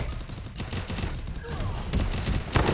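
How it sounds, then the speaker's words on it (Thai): Heavy gunfire rattles through a Free Fire match, a dense continuous fusillade of overlapping shots and bursts at mid distance, steady and loud with faint voices beneath. "เสียงปืนโคตรเยอะ"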